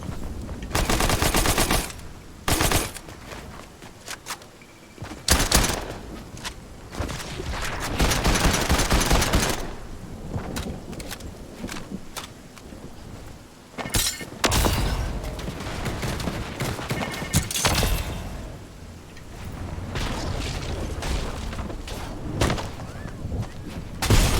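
Gunfire in the video game Fortnite: loud bursts of rapid automatic fire and single shots come in dense clusters with brief pauses, filling most of the stretch, with some talk mixed in.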